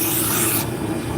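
A spindle gouge cuts a wooden spindle shaft for a Turkish drop spindle on a wood lathe, giving a steady, close, rushing scrape that runs throughout and softens slightly partway through. No one speaks.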